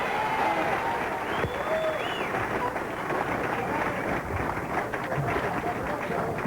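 Family members in the crowd at a 1999 PBA Tour bowling event in Albuquerque cheer and applaud a bowler in a steady, dense roar of clapping and voices, with commentary-like talk mixed into the noise.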